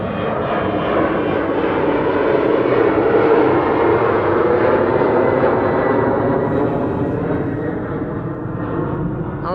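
A KLM Cityhopper airliner at Amsterdam Schiphol in winter, its engines giving a loud, close, sustained roar that swells slightly in the middle and then eases as it passes, with no voices.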